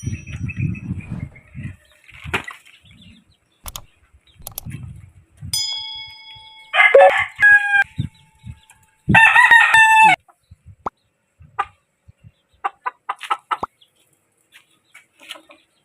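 Backyard chickens cluck and a rooster crows loudly twice, with scattered pecking, scratching and short clucks between quiet gaps, all close by.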